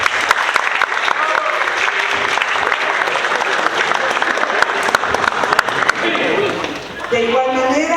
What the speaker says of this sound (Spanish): le pido le demos un aplauso